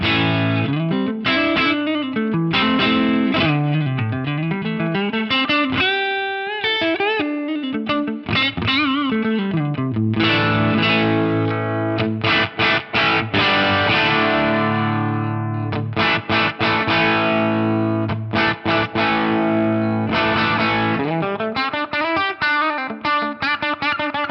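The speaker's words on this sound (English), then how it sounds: "We'll hear the neck first, then the bridge wide open, and I'll back the tone control up." Distorted Stratocaster electric guitar playing a continuous run of chords and riffs, first with a rounder neck-pickup tone, then a brighter, more cutting bridge-pickup sound.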